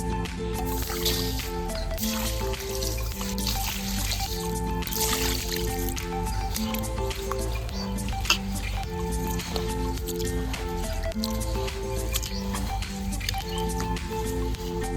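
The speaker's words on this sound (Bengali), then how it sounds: "চালটা খুব ভালো করে ধুয়ে নেব।" Rice being washed by hand in a pot of water, with continuous wet squishing, dripping and sloshing, layered over steady tonal background music.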